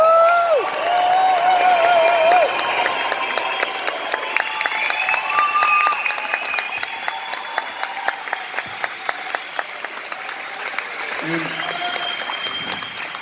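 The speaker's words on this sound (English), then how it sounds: "So can we please cheer, raise the roof for Mr. Mike Edgar." An audience at the Northern Ireland Music Awards applauds steadily, with dense clapping and whistles that fade slightly over the thirteen seconds. Voices can be heard faintly under the clapping.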